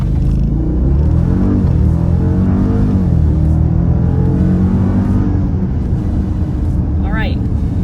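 A 2018 Jeep Grand Cherokee SRT in sport mode accelerates from a standstill toward 100, its engine roaring and rising in pitch through upshifts, heard from inside the cabin with people talking over it.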